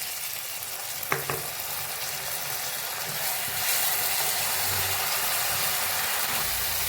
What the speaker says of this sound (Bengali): এবারে মশলাটাকে একটু কষাতে থাকবে।